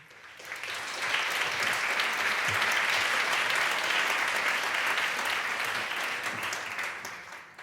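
An audience at a public-education talk in the Canary Islands applauds to welcome presenters. The clapping swells quickly, holds as a broad, even wash for several seconds, then gradually tapers off.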